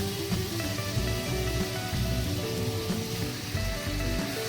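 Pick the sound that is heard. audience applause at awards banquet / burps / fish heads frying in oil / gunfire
fish heads frying in oil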